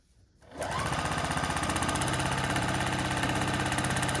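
After a brief quiet start, a sewing machine starts up and runs steadily, stitching quilt block pieces with a loud, even, rapid mechanical whir and needle chatter close by.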